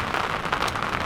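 Heavy winter rain pattering outdoors at a carp fishing lake, a dense continuous hiss of drops striking surfaces, close and loud with no voices.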